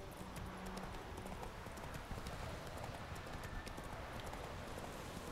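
Hooves of Roach, Geralt's horse in The Witcher 3, clip-clop in a steady trotting rhythm under a constant bed of game ambience and wind, fairly close and even in loudness throughout.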